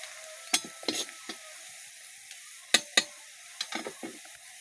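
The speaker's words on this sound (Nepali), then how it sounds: "प्याज एकदम गोल्डन ब्राउन भइसक्यो साथीहरू।" Onions frying in a pan until golden brown, giving a soft continuous sizzle broken by a few sharp scrapes and clinks of stirring, close and fairly quiet.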